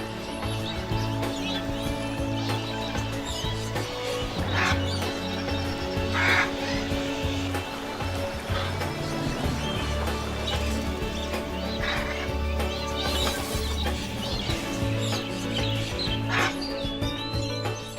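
Harsh bird squawks and calls break out repeatedly over a dense bed of music and ambient noise, moderately loud and fairly distant.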